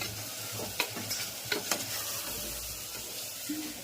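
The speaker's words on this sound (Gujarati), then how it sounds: "મસ્ત મજાનો વઘાર થઈ ગયો છે દીધીનો" A vegetable tempering (vaghar) sizzling in a pan, with a soft continuous fry and a few light stirring scrapes and taps scattered through, fairly quiet and without talk.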